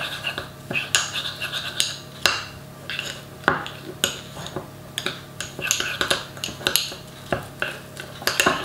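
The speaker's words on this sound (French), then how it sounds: "Je viens mettre mes épices dans mon beurre. On mélange" Garlic, parsley and oregano stirred into butter in a bowl, a utensil scraping and clinking against the sides in a steady run of close, repeated strokes with no talk.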